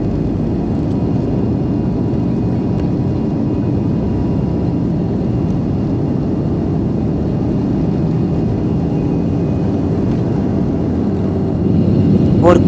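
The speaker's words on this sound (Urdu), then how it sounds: "مین رن وے پہ پہنچنے کے بعد جہاز نے پکڑی اپنی فل سپیڈ" Loud, steady low engine roar of a Thai Airways airliner accelerating to full takeoff speed on the runway, heard from inside the cabin as a continuous dense rumble that swells slightly at the end.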